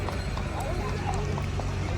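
Horses clip-clop at the Jagraon horse fair in Punjab, their hoofbeats buried in a dense wash of crowd noise and nearby talking.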